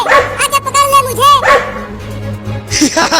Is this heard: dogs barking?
yes